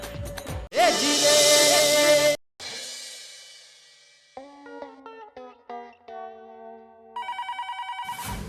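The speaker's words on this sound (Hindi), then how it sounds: "सुबह सुबह किसका फोन आया है?" After a burst of musical sound effects and tones, a rapid electronic telephone ring trills repeatedly near the end.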